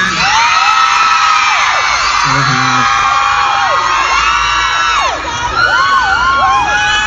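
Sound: crowd screaming and cheering

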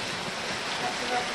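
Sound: torrential rain in Bacabal

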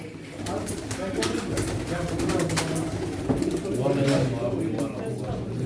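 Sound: pigeons cooing at a pigeon auction

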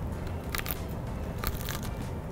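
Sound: biting crispy gochujang fried chicken wing crunch

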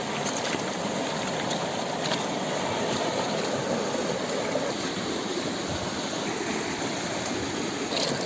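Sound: rinsing mole crabs in water by hand

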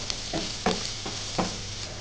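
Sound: stirring onion rice mixture with turmeric powder in a pan

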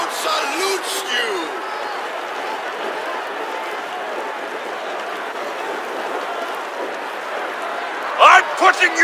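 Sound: arena crowd cheering, from video game Assassin's Creed Odyssey

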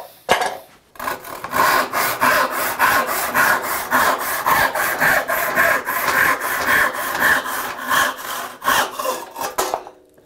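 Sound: hand crosscut saw test cut through wood

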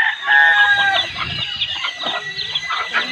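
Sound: chickens clucking

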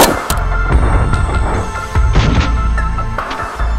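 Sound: 7.62x39 rifle shots striking armor plate

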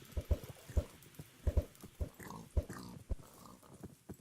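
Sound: pigs in Minecraft, from a video game

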